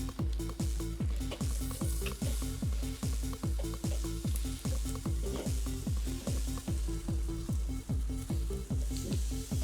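Onions sizzling loudly in a hot pan for lamb with chilli jam, a dense continuous frying hiss with rapid rhythmic scraping and tossing strokes, close up and without talk.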